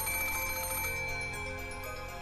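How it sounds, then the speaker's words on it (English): A telephone rings in the Umineko video game, a faint, steady electronic tone held without pause over a quiet background hum, with no talking. "With that one sentence, the ring of the phone,"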